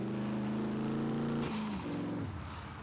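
A tractor engine in the SCUM zombie survival game drones steadily at close range, its low, throaty tone holding level before dipping and shifting pitch as it changes speed, with no talking.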